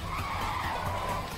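A pickup truck skids in Clustertruck, a steady, sustained tire screech over engine rumble that holds for the whole moment without a break.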